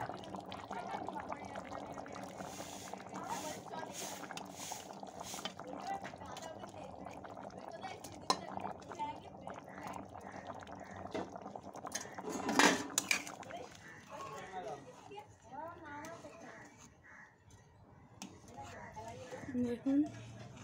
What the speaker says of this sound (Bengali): এইবার একে একে ডিমগুলো দিয়ে দেব।